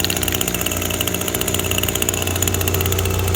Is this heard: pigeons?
no